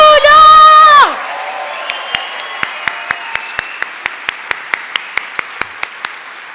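An audience at a congress claps for the performance group Memórias em Movimento. A loud voice opens the moment, then sharp claps fall in a steady, evenly spaced unison rhythm that stays fairly quiet.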